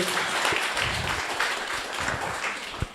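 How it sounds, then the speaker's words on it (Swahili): A crowd claps in sustained applause at a Catholic church self-help group's annual general meeting indoors, with dense, even clapping throughout and a few louder claps near the end. "Tumpigie makofi on behalf ya Wangari"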